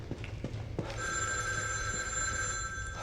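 A telephone rings in a cutscene of a survival horror video game, with a steady electronic trill under a faint background hum, heard alone without talk.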